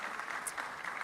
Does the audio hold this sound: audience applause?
yes